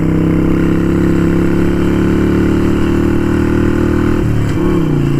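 Harley-Davidson Sportster 883 Iron motorcycle engine running loud and close in a steady, throbbing drone, then shifting pitch abruptly near the end as the revs change.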